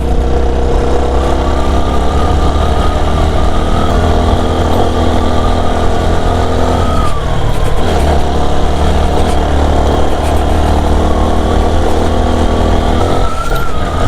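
Several motorbikes speed along a mountain road, their engines a loud, continuous roar that stays steady throughout with a brief dip in pitch midway, no talking.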